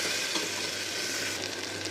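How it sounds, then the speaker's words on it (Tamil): Steady sizzling of onions frying in a hot pan, a constant crackling hiss close up with no talking. "நல்லா வதக்கிக்கலாம்."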